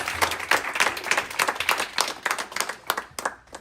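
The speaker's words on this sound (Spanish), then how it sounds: "Give a round of applause to Christ" Steady applause from a church congregation, dense clapping that carries on for a few seconds with uneven swells, fairly loud and close.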